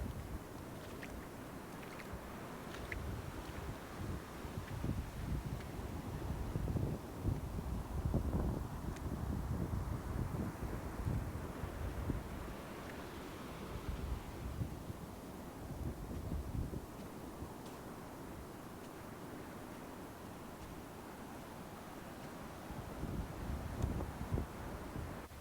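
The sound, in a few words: wind at the beach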